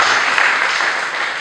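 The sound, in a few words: congregation applauding and acclaiming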